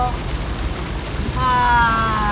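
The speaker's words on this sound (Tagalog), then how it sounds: "At umuulan na." Steady rain falls outdoors in a continuous wash of hiss, with a tonal hum from passing traffic or an engine rising partway through.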